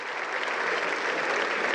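A large crowd applauds steadily, a dense, even wash of many hands clapping at a moderate distance, continuous throughout with no individual claps standing out.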